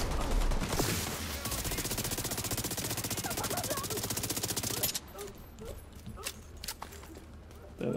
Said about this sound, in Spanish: Eso era disparos especiales, ¿no?